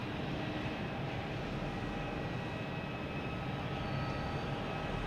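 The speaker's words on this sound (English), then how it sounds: "Tecnam 2012 taking off on 33 left." A Cape Air Tecnam P2012 twin-engine prop plane takes off from runway 33 left at Boston Logan Airport, giving a steady, loud, broadband engine roar that holds constant with no voices.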